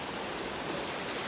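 Rain falls steadily beside a silty riverbed, a soft continuous hiss of drops on wet ground with no talk.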